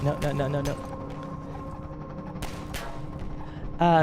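Gunfire from the Half-Life 2 video game, a few sharp bursts of shots at the start, midway and near the end, with game music and a voice talking over the top.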